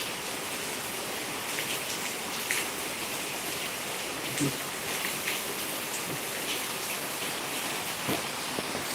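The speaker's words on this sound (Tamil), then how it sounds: "ரொம்ப நாள் கழிச்சு இப்படி மழை பெஞ்சிருக்கிறதுக்கு" Heavy rain pours down in a dense, constant hiss with scattered louder drops splashing on nearby surfaces.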